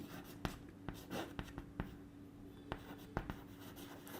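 Chalk or marker writing on a board during a physics class on electric fields and dipoles, with a series of faint, sharp taps and scratchy strokes at irregular intervals against a quiet room hum.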